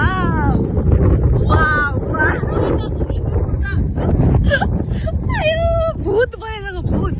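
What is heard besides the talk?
strong wind blowing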